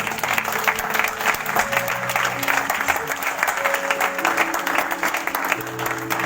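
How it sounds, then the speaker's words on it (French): Audience clapping in a church hall fills the space steadily, with voices and a few sustained tones mingling underneath the applause. "On va les applaudir et les merci d'être là."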